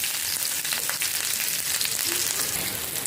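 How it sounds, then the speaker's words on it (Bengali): Green chilies fry in a hot pan, giving a dense, steady sizzle that crackles continuously and close by, with no talking. "কাঁচামরিচটা একটু ভাজা হয়ে আসছে"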